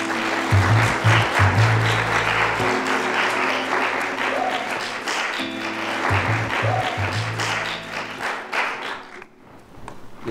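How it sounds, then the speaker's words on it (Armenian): A studio audience on a TV classroom show applauds a student in a steady patter of clapping, while a loud rhythmic music beat plays and a host talks over it. The applause fades near the end. "Այժմ ցածրաձայն ծափարություններով"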